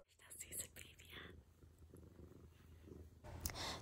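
A cat purrs close up with a steady, low rumbling rhythm at a retreat in Brazil, while faint whispering or soft voices drift in the background.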